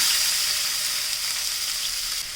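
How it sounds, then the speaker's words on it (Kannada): Chopped vegetables frying in hot oil with mustard seeds and cumin, a loud, steady, close sizzle with a bright hiss that holds evenly throughout, no talk. "ಇವಾಗ ಚಾಪರಲ್ಲಿ ಕಟ್ ಮಾಡಿ ಇಟ್ಕೊಂಡ ತರಕಾರಿ ಹಾಕೋತೀನಿ."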